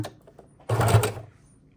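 A sewing machine stitches fabric scraps and lace onto junk journal pages in one short burst of rapid needle clatter that starts abruptly and runs for about half a second, close and fairly loud, then stops.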